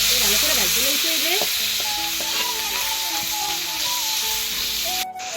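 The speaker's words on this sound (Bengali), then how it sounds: "এখন দিয়ে দিমু সেউ মাছ। ভালো করে ভাজতে লইতে হইবে।" Chewa fish fries in hot oil in a pan, a continuous loud close sizzle and hiss, with faint warbling tonal sounds in the background that drop out near the end.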